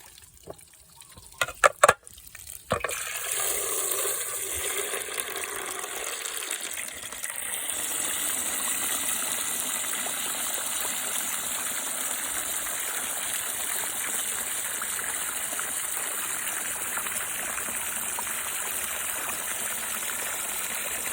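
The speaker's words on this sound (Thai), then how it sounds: "ล้างเฉยๆไม่ ไม่นิ่มนะครับต้องล้างน้ำวนแบบนี้นะครับ น้ำไหลน้ำวน" Running tap water swirls steadily while pork liver is rinsed for garlic-fried liver, a continuous close gushing flow that follows a few brief clattering knocks at the start, with no talking.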